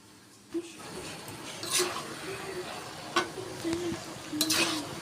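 Spoon stirring vegetables with ground spices in a pan for a home vegetarian meal, soft scraping strokes at intervals over a low background sizzle, no talking.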